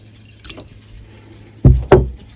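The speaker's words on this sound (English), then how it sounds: "And just cover them just so they're covered with water." Water poured into a 500 ml glass jar holding a tablespoon of seeds, heard as two short, close splashing pours in quick succession after a quiet pause.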